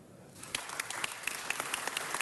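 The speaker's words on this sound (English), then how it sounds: "Give her a big round of applause," A round of applause breaks out in a city council meeting, starting after a brief quiet moment and continuing as uneven, crisp claps from a modest group in the chamber.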